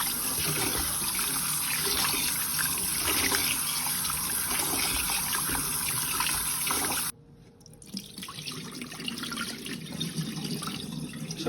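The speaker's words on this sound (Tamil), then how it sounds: "இப்போ இந்த அரிசி அப்படியே எல்லாம் கழுவி எடுத்து வச்சுக்க போகிறேன்" Rice being rinsed in a vessel under running tap water: a steady, close rush of flowing water that abruptly quietens, followed by softer sloshing and trickling of the washing.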